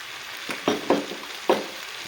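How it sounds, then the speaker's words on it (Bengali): Chopped spinach leaves hit a hot frying pan with oil, a soft sizzle broken by several quick scraping stirs of a spatula, close and fairly quiet. "এখন দিয়ে দেব কেটে রাখা পালং পাতা"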